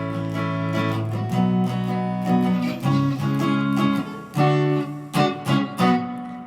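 An electric guitar plays the chorded rhythm part of a riff alone, ringing chord changes in a steady strummed pattern with short choppy stabs toward the end.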